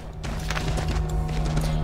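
A horse's hooves clip-clop at a steady, quick pace in the video game Assassin's Creed III, moderately loud over a low background hum.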